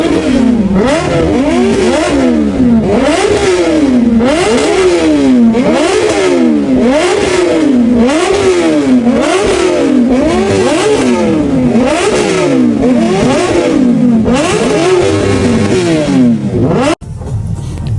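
Superbikes lined up for display at a bikers fest rev their engines again and again, each throttle blip rising and falling in quick repeated sweeps, loud and close, with a sudden cut near the end.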